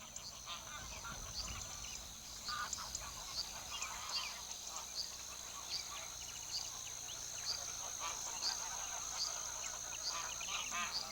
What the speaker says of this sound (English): These geese are the ancestors of our domestic geese